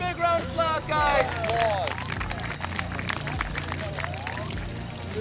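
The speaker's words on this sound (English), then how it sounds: "Give them a big round of applause" Applause and clapping from a group at an engineering summer camp, rising loudly at first then continuing as a lively mix of claps, cheers and crowd chatter, with voices shouting over it.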